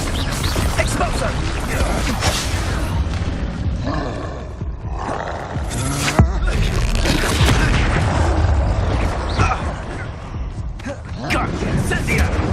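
Repeated Expulso spell explosions in the Hogwarts Legacy video game, booming roars and crashing blasts in quick succession over game sound and a player shouting spell names.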